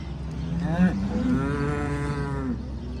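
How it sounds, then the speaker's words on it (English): Cows on a farm on a wet morning, one giving a single long, loud, close moo that rises and then falls off, with lower lowing underneath. "That's Boss Cow, the one that got real mad there for a second"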